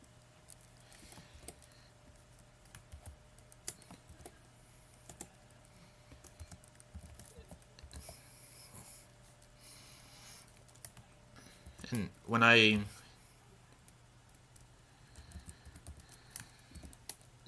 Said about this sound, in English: finish typing this out